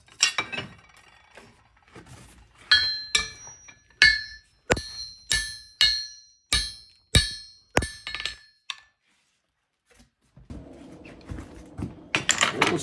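A light hammer strikes the end of a hot iron bar on an anvil to upset it, a run of about a dozen bright ringing blows at an even pace, then a pause before quieter shuffling noise.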